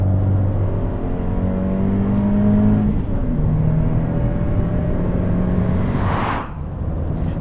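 A 2019 Fiat 124 Spider Abarth's 1.4-liter turbocharged four-cylinder drones steadily in sport mode, a loud, continuous burbly exhaust note with shifting engine tones and a brief whooshing swell near the end.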